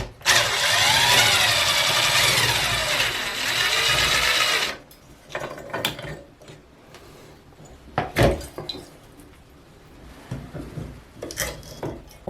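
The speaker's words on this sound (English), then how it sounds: "We're going to use the screwdriver, or in our case, power tool," A power tool whirs steadily and loudly for about five seconds while unscrewing a Pfister shower cartridge, then stops, leaving faint clicks and handling knocks nearby.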